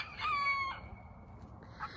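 A Rhode Island Red rooster crows once nearby, a clear rising-and-falling call, followed by a quieter second call amid faint farmyard background.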